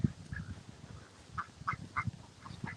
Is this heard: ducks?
yes